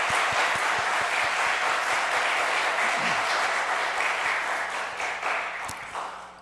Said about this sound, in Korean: 이 자리에 참여한 우리 자녀들을 위해서 큰 박수 한번 하겠습니다.